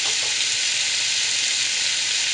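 Lamb frying and browning in a hot pan for a lamb and spinach curry: a loud, close, continuous sizzle with a steady crackling texture and no voices.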